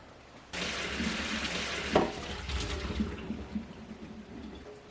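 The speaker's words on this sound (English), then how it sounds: "So we'll take these off of the stove and go drain them." Water from a pot of boiled potatoes pours into a kitchen sink, starting with a sudden gush and then a steady splashing rush, with a clunk of the pot partway through.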